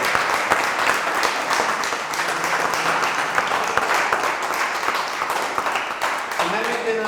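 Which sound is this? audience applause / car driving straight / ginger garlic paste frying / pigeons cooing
audience applause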